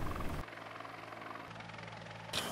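Helicopter fighting a forest fire on steep, hilly terrain at Tanjung Riau, Batam, its steady rotor drone and whine holding continuously at moderate loudness with no talk over it.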